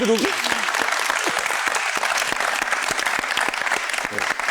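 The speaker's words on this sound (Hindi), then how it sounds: "बजाओ तालियां." A studio audience on a talk show applauds with sharp, close hand claps, sustained and even for over four seconds, with a brief voice at the very start.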